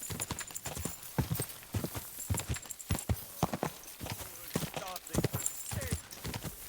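Horse hooves clip-clop steadily in a video game, a brisk uneven run of sharp close hoofbeats lasting throughout, with a few voice sounds mixed in.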